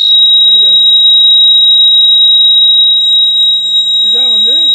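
A low water level alarm beeps as one continuous, piercing high-pitched electronic tone that runs loud and unbroken through the whole clip, while someone speaks briefly near the start and again at the end.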